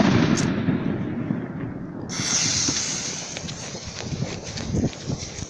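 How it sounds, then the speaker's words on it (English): Fireworks go off outdoors: scattered thuds and crackles, with a hissing launch or whistle rising partway through, heard at moderate distance under low background noise. "Fireworks."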